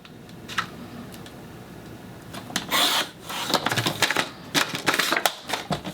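Paper cut on a craft trimmer for card making: scattered clicks and taps, then a few short scraping, rasping slides of the blade, close up and moderately loud, with no voices.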